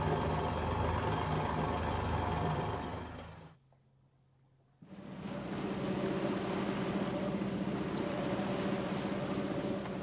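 A sailboat's engine running in light wind, a steady loud drone that drops out for about a second and then returns just as strong, with no talk over it.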